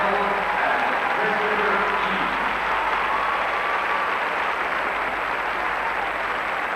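Sustained crowd applause in an arena after Torvill and Dean's ice dance at the 1984 World Championships, a dense steady roar of clapping filling the whole stretch at even loudness.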